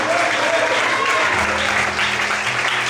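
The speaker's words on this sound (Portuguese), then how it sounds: "Você pode aplaudir o Senhor?" A church congregation claps for the Lord at the close of a sermon, dense sustained applause filling the hall, with some voices and a faint tone mixed in.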